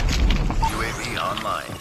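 Grenade blast in Call of Duty Mobile: a loud low boom near the start, with thuds and rumbling gunfire-like bursts behind it and game voice chatter.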